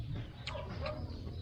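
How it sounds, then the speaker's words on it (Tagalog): A chicken clucks twice in quick succession, close by and fairly soft, over a low background rumble. "May manok pa dito."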